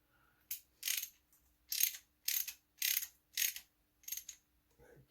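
A hand tool snugs screws on a Losi 5B center differential in a run of seven or eight short, crisp ratcheting bursts, close and fairly quiet, evenly spaced with brief pauses between.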